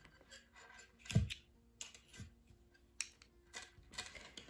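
A few quiet snips of scissors cutting crochet yarn, close and brief, scattered among soft handling clicks and rustles in a quiet room.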